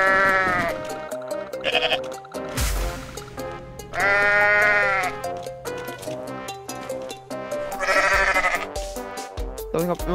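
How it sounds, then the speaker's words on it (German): Goat bleats from the video game Goat Simulator ring out loud and repeatedly, several drawn-out cries spaced through the stretch over game noise and music. "Wenn man eins drückt, kann man so Ziegengeräusche machen."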